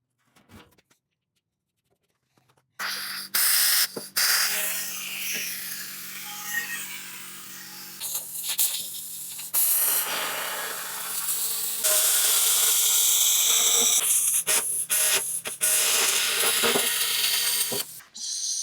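A power tool cuts a lid into a plastic bear bait barrel, a loud buzzing, rattling whine that starts after near silence and runs in bursts with short pauses.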